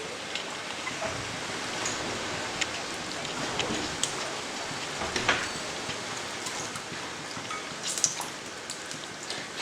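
Hot oil sizzling in a pan with a pinch of turmeric, just before a salted fish head goes in for a pui shak dish. A steady, fairly faint crackle runs throughout with scattered sharper pops.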